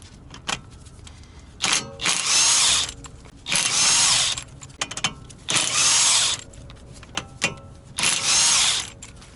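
Power tool loosening hub bolts on a Toyota during wheel stud work, four loud bursts of whirring and rattling about a second each, separated by short pauses and small clicks, close to the microphone with no talking.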